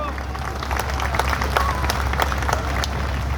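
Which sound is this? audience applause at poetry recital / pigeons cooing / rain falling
audience applause at poetry recital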